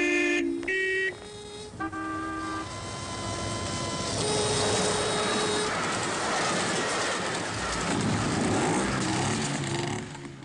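A train rumbles past a level crossing at close range while horns toot and the crossing bell rings, the roar building and staying loud through the end.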